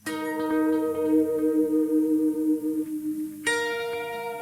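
Electric guitar through an Empress Audio Zoia pedal set with two delays and a phaser: a sustained tone sweeps softly and repeats in echoes, then a fresh note is struck near the end, clear and alone.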